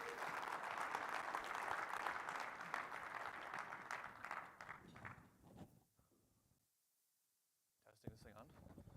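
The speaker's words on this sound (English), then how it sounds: "So I'll give him a round of applause." An audience at a Saturday morning event claps together, a dense round of applause that swells and then fades out over several seconds, followed by a brief silence and the start of a voice.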